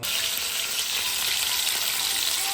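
Hot oil sizzling hard as a tempering is added while cooking dill greens, a loud close continuous crackling hiss that stays even for a few seconds without speech.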